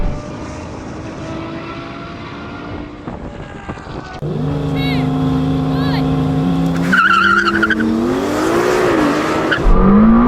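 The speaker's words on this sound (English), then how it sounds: "This M8 is destroying a Ferrari." BMW M8 and a Ferrari drag racing, with loud sustained engine drone rising in pitch as the cars accelerate through gears, tire and wind noise throughout, heard from a distance under crowd ambience.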